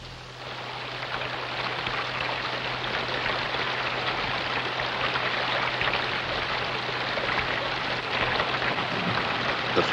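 Steady heavy rain hissing down through forest foliage, a dense constant patter that holds evenly and slightly builds, with a low hum underneath.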